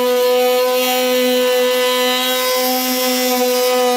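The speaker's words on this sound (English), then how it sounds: "I kinda like the multi-tool, so that's what I'm gonna use, but anything will work, so we'll just get all this material removed here" An oscillating multi-tool cuts away bumper material on a 2021 Subaru Outback during a trailer hitch install, producing a loud, close, continuous buzzing drone with a steady pitch for about four seconds.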